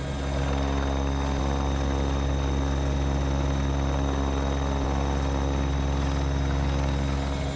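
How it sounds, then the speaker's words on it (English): An aircraft's steady loud engine drone and rotor-like hum fill the whole stretch without a break, constant and close as it comes in to land in the middle of a street. "it is now time to prepare for landing at the office of Concrete5"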